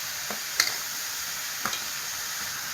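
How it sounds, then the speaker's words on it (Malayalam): Onion, ginger, garlic and green chili sizzle in a hot pan with a steady, bright frying hiss, broken by a couple of short clinks of stirring. "ഇഞ്ചിയും വെളുത്തുള്ളിയും പച്ചമുളകും കൂടെ ഇതിലേക്ക് ഇട്ട് കൊടുക്കുക."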